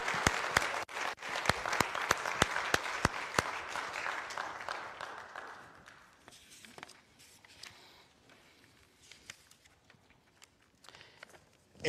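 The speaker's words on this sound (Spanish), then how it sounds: "Démosles en este momento un fuerte aplauso a José y a Jessica." A church congregation applauds a couple during a Sunday service, a crisp burst of clapping with sharp individual claps that gradually thins and fades out into a quieter room with scattered last claps.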